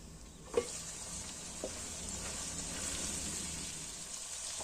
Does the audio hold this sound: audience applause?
no